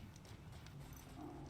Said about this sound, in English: It's the problem of fast traveling in on a horse.